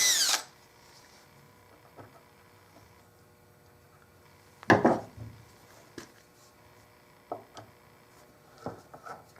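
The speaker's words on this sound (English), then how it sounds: "I should have drilled these holes before I put that glue in there" A power drill bores holes into a wooden Victorian bed frame, with a sharp opening burst and a louder mid-clip whir, followed by scattered light knocks and handling taps nearby.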